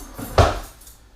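Measuring spoons and kitchen utensils clatter briefly as they are picked up from a drawer or pot area, one sharp metallic rattle standing out from quieter handling before and after.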